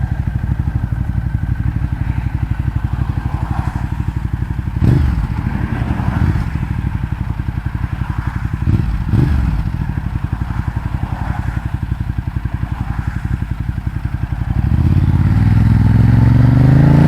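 A 2012 Ducati Diavel fitted with a Termignoni exhaust idles with a loud, deep, pulsing rumble, a few throttle blips rising over it, and the revs climb strongly toward the end.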